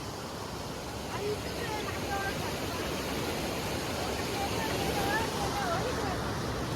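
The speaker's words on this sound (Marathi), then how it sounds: "तर फुल स्पीडने पाणी जात" A rain-swollen river rushes at full speed over a flooded field area, a loud and constant broad roar of water with faint voices and thin whistling tones drifting over it.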